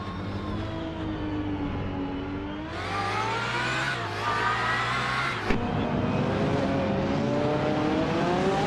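Racing game cars, including a 2012 Aston Martin Vantage GTE, at Circuit of the Americas, engines revving loud and close with rising and falling pitch as gears change, one sharp shift midway, no talk.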